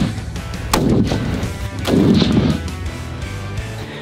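A Savage 110 Ultralight rifle chambered in .270 fires two shots about a second apart. Each is a sharp, loud crack trailed by a rumbling echo, with no talking.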